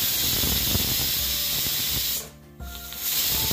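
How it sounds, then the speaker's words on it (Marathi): A pressure cooker steadily releases a loud hiss of steam, which cuts off sharply, falls quiet for a moment, then softly returns. "इथे कुकरच्या 2 शिट्ट्या झाल्या आहेत."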